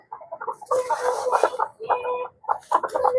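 A White Leghorn hen clucking in a rapid, irregular series of close, fairly loud clucks with short pauses between bursts.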